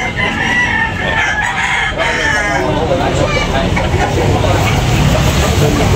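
Roosters crow loudly and overlap at a busy chicken market in Tabunok, Talisay, with clucking and crowd noise filling the background.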